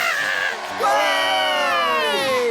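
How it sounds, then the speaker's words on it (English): Cartoon crowd erupting into wild cheering for a gymnastics routine, a burst of high excited whoops and shouts that swells suddenly and holds loud. "The crowd went wild!"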